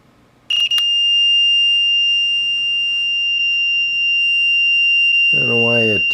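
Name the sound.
UNI-T UT15C voltage tester beeping on reversed polarity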